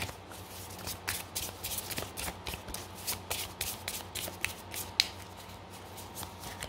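A tarot deck, the Vampyria tarot, is cut and handled close up: soft, repeated papery flicks and light snaps in an uneven rhythm, with no voice.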